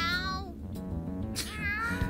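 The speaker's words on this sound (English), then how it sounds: "That sure is a noisy cat." A game cat in Persona 5 Strikers meows loudly and insistently, a drawn-out wavering yowl followed by a second rising meow, close and clear over faint background game audio.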